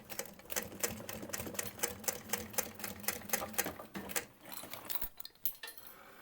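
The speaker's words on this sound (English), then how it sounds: "this is going to get sewn right over top of where our zipper is" A sewing machine stitches webbing down over a zipper on a small waistpack, running in a fast steady rhythm of rapid needle strikes, then slowing into a few uneven bursts near the end.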